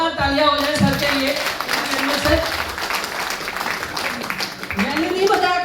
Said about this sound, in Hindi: एक जोरदार तालियां हो जाए सर के लिए